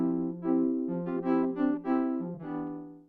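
Serum synth keys using the 'Key Future Whirly' preset, played dry without reverb: a sequence of sustained harmonic chords with distinct note changes every half second or so, up close and alone, with no voice over it.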